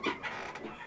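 Chickens cluck inside a coop holding white leghorn and Australorp hens: a brief, close burst of throaty clucks, under a second long, with no talk.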